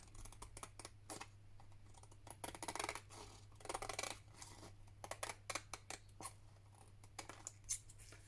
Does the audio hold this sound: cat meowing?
no